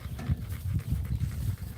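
A lap dog pants close by in quick, steady breaths, a soft rhythmic huffing that runs through the whole moment with no talking over it.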